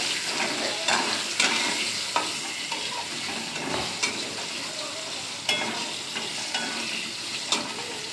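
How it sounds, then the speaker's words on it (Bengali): Dense, continuous frying sizzle up close, with occasional scrapes and stirs as potatoes cook in a pan; no one speaks. "নুন দিয়ে দিয়েছি, দিয়ে আমি আলুটাকে ভেজে দিচ্ছি"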